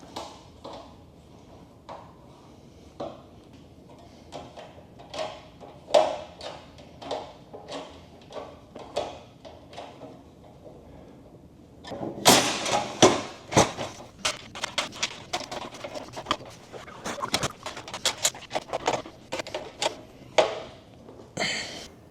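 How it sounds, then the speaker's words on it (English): A 5mm Allen wrench tightens screws on a stainless steel kitchen table, giving repeated sharp metallic clicks and ratcheting taps, sparse at first and then denser and louder in the second half. "I'm just using my own 5mm Allen wrench to tighten each of these screws"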